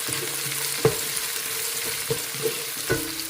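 Sun-dried vadavam seasoning crackles in hot oil, a soft steady fry broken by a few sharp pops spaced a second or so apart, close and fairly quiet with no talking.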